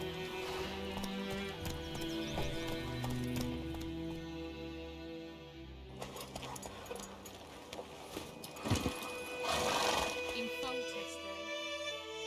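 Roach the horse gallops in the video game The Witcher 3: Wild Hunt, with rhythmic clip-clop hoofbeats over layered game music and ambience, while voices talk.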